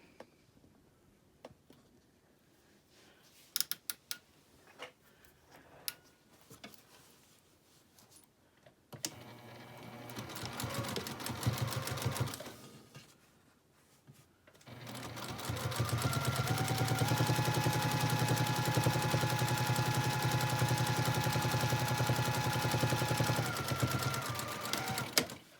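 A home sewing machine top stitches a seam on a patchwork zipper pouch with a longer stitch, starting as scattered ticks and short runs, then settling into a long, steady, close whir of rapid stitching.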